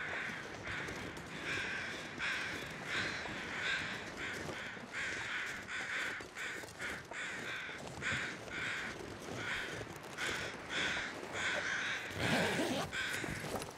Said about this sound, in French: je crois qu'on se rapproche des corbeaux